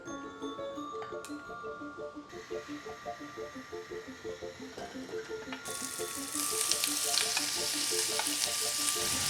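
Shaoxing cooking wine, soy sauce, sesame oil and white pepper frying in a pot for a simple midnight snack, giving a steady close sizzle with a rhythmic scraping stir that turns louder and brighter toward the end.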